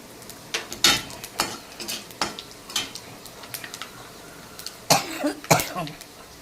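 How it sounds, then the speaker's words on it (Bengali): Dried red chillies and panch phoron crackle in hot oil, with sharp spitting pops and intermittent bursts of sizzle close by, no talking. "আমি ফোড়নে দিয়ে দেবো 3টে শুকনো লঙ্কা, এরপরে দিয়ে দেবো আমি একটু পাঁচফোড়ন"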